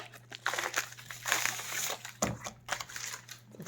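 Thin plastic crinkles and rustles up close in irregular bursts as packets from embroidery kits are handled and pulled open.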